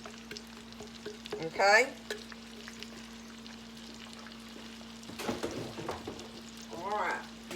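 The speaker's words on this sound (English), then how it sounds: "get this peppers and onions cooking in this butter" Peppers and onions fry in butter with a dab of bacon grease, a steady soft sizzle running throughout with occasional stirring scrapes and a brief spoken word.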